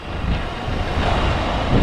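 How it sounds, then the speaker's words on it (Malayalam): Strong seaside wind buffets the microphone, producing a steady, loud rushing roar with no voices. "അപ്പോൾ അങ്ങനെ നല്ല കിടിലൻ കാറ്റുണ്ട്"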